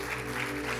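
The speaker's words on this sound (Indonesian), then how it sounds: "Anda sekali lagi mau kasih tepuk tangan buat Yesus" A church congregation claps for Jesus during a service, a steady wash of applause over sustained musical tones for under a second.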